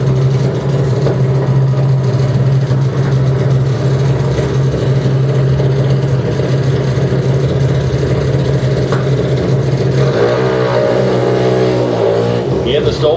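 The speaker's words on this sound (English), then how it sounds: "engines fire on our next final" Junior dragster engines running at a drag racing final, a steady loud droning rumble throughout with a shift in tone near the end, under talk.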